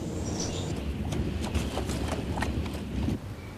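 Horse hooves clip-clop in a steady walking rhythm, moderately close, over a continuous low rumble of background noise with no talk.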